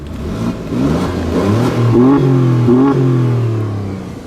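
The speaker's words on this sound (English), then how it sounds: "So you can hear the valves open after a certain RPM" An Alfa Romeo Stelvio Quadrifoglio engine revs up close, exhaust valves opening past a certain RPM, pitch climbing and holding with a throaty, rising exhaust note before easing back down.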